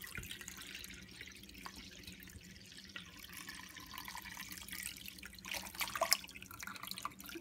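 Peony jelly juice poured over a towel set on a bowl to strain it, a faint steady trickle and dripping of liquid that builds slightly toward the end, no voices.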